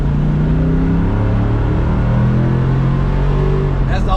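A 1976 GMC truck's engine revving loud and close while driving, a steady deep rumble that climbs and falls in pitch, with road rattle and some talking over it.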